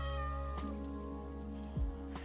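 A Minecraft cat meows a few times in short, clear calls over a steady droning background of game music, with no talking.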